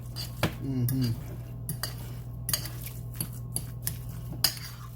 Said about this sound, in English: So I'm using a fork so I can get it all mixed in really good.